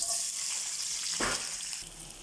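Steady close-up sizzle of onions frying in hot oil, with a brief louder burst of crackling partway through as something is stirred or added.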